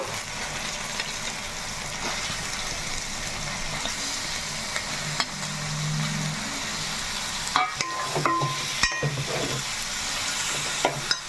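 Chicken pieces go into a pan of gravy for a tamarind chicken curry, cooking with a steady close sizzle and bubbling, broken by a few sharp scrapes and clatters of a spoon against the pan near the end.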